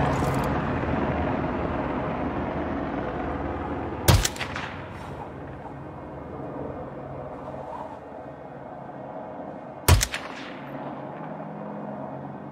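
Two sharp, loud sniper rifle shots in the video game Hitman, spaced about six seconds apart over a low ambient background, each with a brief echoing tail.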